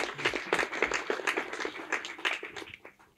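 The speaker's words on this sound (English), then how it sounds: "I think he deserves a round of applause for that." A small audience at an official retirement announcement for a national team player claps for a few seconds, with distinct, uneven individual hand claps that thin out toward the end.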